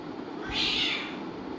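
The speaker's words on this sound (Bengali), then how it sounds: "বিড়াল ডাকছে বাইরে।" A single drawn-out cat meow, moderately loud and slightly distant, rising and fading over about half a second against a quiet background.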